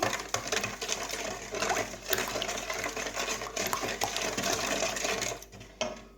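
Rapid, steady clatter of a whisk beating pie dough with vanilla sugar against a bowl, close and continuous, with a brief pause near the end.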